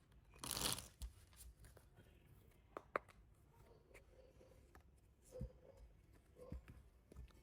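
A deck of cards gets a quick riffle shuffle, one short crisp burst of flicking cards, followed by faint taps and soft handling noises in a quiet room.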